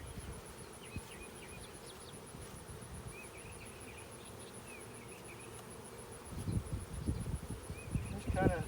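Honeybees emerging from the comb on graduation day, a faint steady insect buzz with occasional louder rustling near the end and quiet talk.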